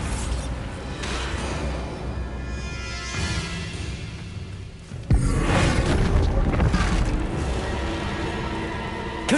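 Bombarda spell in Hogwarts Legacy, a rumbling magical blast that hits sharply midway with a loud boom, followed by a sustained roaring, crackling wash of debris and effects.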